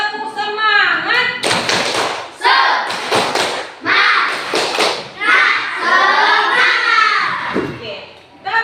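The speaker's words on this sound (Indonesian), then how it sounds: "Coba tepuk semangat." A class of schoolchildren, led by their teacher, performs the Indonesian 'tepuk semangat' clapping chant: bursts of sharp group hand claps in rhythmic patterns alternate with chanted children's voices, loud and close.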